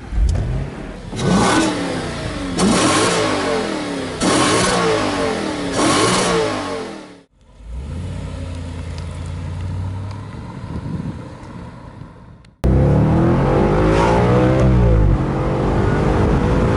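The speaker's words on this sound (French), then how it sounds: "Tu vas nous le démarrer, hein, Cédric, si tu veux bien." A 2013 Audi RS5 cabriolet with 450 hp, tested in Morocco, revs hard in several loud, close bursts. It settles to a quieter idle, then roars again as it accelerates away.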